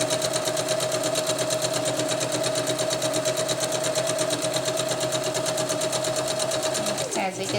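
A sewing machine runs steadily, stitching a zipper onto a hammock bug net with a constant high whir and rapid needle rhythm, close and loud throughout, then slows and stops near the end while locking the stitches.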